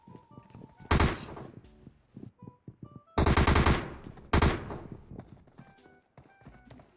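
Gunfire in the mobile battle-royale game PUBG Mobile comes as several loud bursts of automatic shots with sharp onsets and ringing tails, spaced between quieter clicks and footstep-like thuds.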